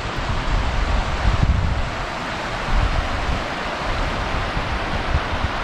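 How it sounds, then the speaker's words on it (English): Cassarate mountain river in Val Colla, Ticino, rushing as a steady, loud, broadband roar close by, with wind buffeting the microphone and no voices. "The river through Valcolla called Cassarate and he goes down to the lake of Lugano."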